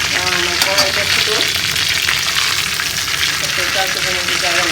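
Chicken sizzles and crackles in hot oil in a wok, a loud, steady frying hiss that runs unbroken throughout.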